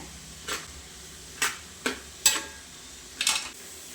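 Onions, green chillies and curry leaves sauté in coconut oil for an egg curry: a soft continuous sizzle broken by about five sharp stirring scrapes against the pan, close and alone.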